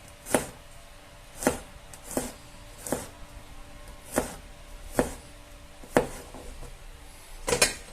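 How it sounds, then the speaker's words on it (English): Sharp knife strikes chopping three garlic cloves on a cutting board, about nine evenly spaced chops with brief pauses, close and clear with no talking. "I'm going to start off by chopping these 3 cloves of garlic into little pieces"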